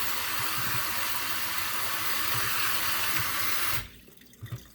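Water sprays hard from a high-pressure faucet over seeds being rinsed, a loud steady hiss that runs alone for almost four seconds, then cuts off, leaving a few faint knocks.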